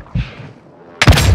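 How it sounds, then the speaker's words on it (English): An airstrike in Call of Duty: Modern Warfare II, a brief low thump followed a split second later by a loud, close explosive blast that rumbles on. "Airstrike!"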